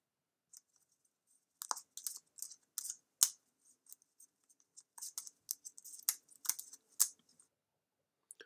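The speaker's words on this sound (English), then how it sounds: "You might want to shuffle them a bit like this." Paper cards being shuffled into a single face-down pile, a close, quiet run of irregular dry riffling flicks and slaps with short pauses between bursts.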